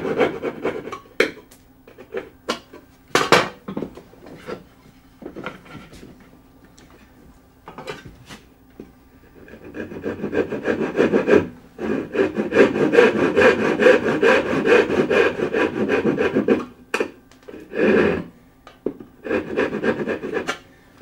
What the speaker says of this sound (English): Taking the saw, we just saw those end pieces out.